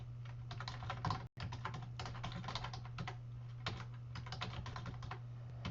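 Rapid, continuous typing on a computer keyboard while writing Visual Basic 2015 code, close and clear clatter of keys in bursts over a low steady hum, with no one speaking.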